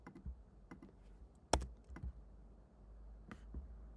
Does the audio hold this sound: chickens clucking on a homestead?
no